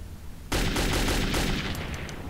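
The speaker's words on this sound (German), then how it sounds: "Langsam wird's knapp mit der Munition" A sustained burst of rapid automatic gunfire from the video game Metro 2033 erupts abruptly and continues loud and dense, with no talking.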